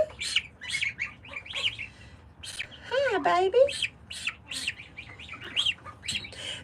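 A Sebastopol gosling gives repeated high, thin chirps and peeps in quick bursts close by, with a short rapid trill in the middle, while a person speaks softly to it.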